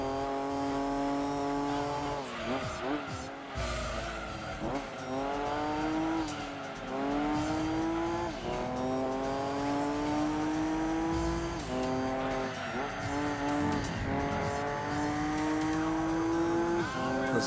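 A 390 hp Nissan Skyline race car on the final lap at Laguna Seca in Gran Turismo 2, its engine howling up through repeated gear changes with brief dips between shifts, close and loud, with tires squealing through the corners.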